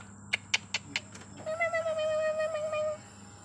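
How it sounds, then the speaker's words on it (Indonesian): A few sharp taps come first, then a nearby cat lets out one long, drawn-out meow that rises and fades. "Kucing."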